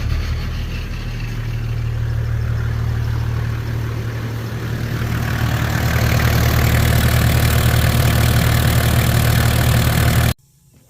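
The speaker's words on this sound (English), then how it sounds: "This is how a 1HZ engine sounds before diesel" A 1986 Land Cruiser's 1HZ diesel engine idles loud and close with a steady low clatter and rumble that grows slightly rougher and fuller partway through, then cuts off abruptly.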